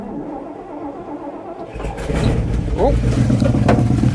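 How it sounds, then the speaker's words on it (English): An engine cranks and catches after its battery is hooked up, then settles into a steady idle; a voice briefly exclaims over it. "we'll see if we can fire this thing up and get it to idle"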